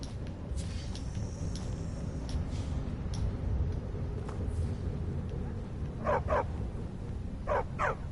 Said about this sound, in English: Oh yeah, there's some dogs right here.